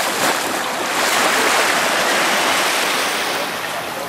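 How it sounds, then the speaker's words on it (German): Surf washing onto Seven Mile Beach on Grand Cayman, a steady broad rush of breaking waves with some wind noise, loud and continuous throughout. "Ich stehe jetzt hier am Strand des Seven Miles Beach auf den Cayman Islands"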